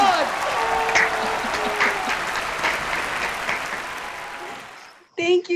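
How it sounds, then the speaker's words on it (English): Loud, sustained applause welcomes the co-presidents on stage at the American Constitution Society's 5th annual Progressive Law Benefit, a dense wash of clapping that drops away near the end as a voice begins speaking. "Please, a big round of applause."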